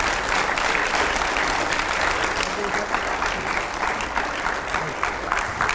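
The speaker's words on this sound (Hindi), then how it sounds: "जोरदार तालियों से स्वागत करिए।" Loud, sustained audience applause welcoming Nitin Gadkari onto a televised editors' panel, dense continuous clapping throughout with no pauses.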